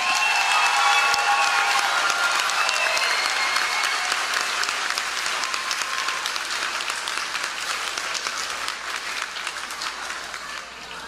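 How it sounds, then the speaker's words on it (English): A large audience at an elementary school moving-up ceremony applauds steadily, dense clapping filling the space and slowly tapering off toward the end, with no voices standing out. "I want to just give the Ellenville Elementary Class of 2023 a big round of applause."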